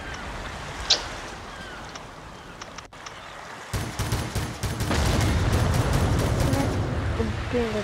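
A battleship firing guns in the Roblox game Battleship Battle, with a quiet stretch followed by sustained dense gunfire and rumbling near the end.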